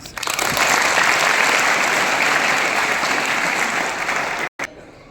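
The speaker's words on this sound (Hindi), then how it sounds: "अब बजा दीजिए ताली से।" An audience claps steadily and loudly for several seconds, a dense sustained applause that ends abruptly near the close.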